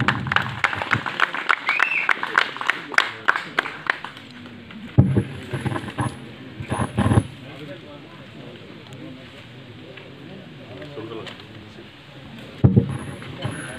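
A crowd claps at a community gathering of the Eluru Padamaraveedhi jatara committee, with a brisk burst at the start and a few scattered claps later, mixed with amplified talk and room noise.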